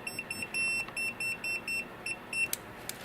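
A Tacklife VT02 non-contact voltage detector pen near an electrical outlet gives a rapid series of high electronic beeps, short pulses in quick succession, close and fairly loud, with no talking.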